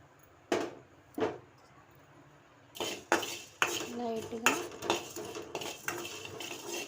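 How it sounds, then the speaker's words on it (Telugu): Coriander seeds are dropped into a heated pan on a stove, giving scattered metallic clinks and rattles, some sharp and close and others softer, with a brief faint voice midway. "గిన్నె పెట్టుకొని గిన్నె హీట్ ఎక్కాక కొన్ని ధనియాలు అయితే వేసుకుని"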